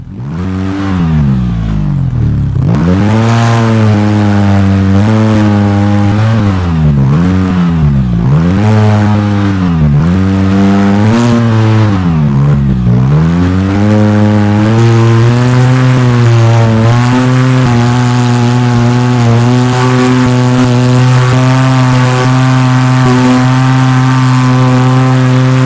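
Off-road vehicle engine in the Overpass driving game labouring up a hill climb, loud and close, its pitch rising and falling with repeated revs before settling into a steady, strained drone.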